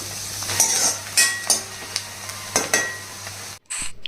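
Thinly sliced onions fry in a pan for a Konaseema country-chicken pulao, a close sizzle broken by repeated scraping stirs of a spoon, with a short gap near the end.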